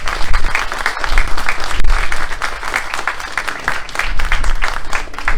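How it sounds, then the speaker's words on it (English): A crowd at the grand opening of a Lakeridge Health building gives a big round of applause, loud and rough with uneven swells of clapping throughout. "Give them a big round of applause."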